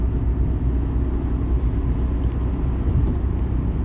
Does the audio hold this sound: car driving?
yes